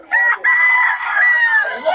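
A rooster crows loudly and close at a chicken market in Bocaue, one long drawn-out call after a short opening note, with clucking around it.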